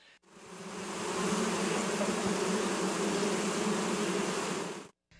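Stingless bees swarm around wooden hive boxes kept for beekeeping, a dense, continuous buzz that swells up close and holds steady before cutting off abruptly.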